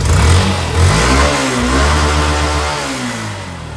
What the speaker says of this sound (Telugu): ఇక్కడ మామూలుగా రియల్గా వచ్చి చూస్తే ఇంజిన్ కండిషన్ బాగానే ఉంది, బీటింగ్ కూడా బాగానే ఉంది